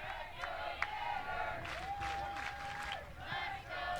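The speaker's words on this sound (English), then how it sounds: "Crowd starting to get into it after that first pitch swing from Mia Williams." A college softball crowd at a Florida versus Arkansas game cheers and shouts steadily, with whoops and rising voices swelling in the distance as a commentator talks over the noise.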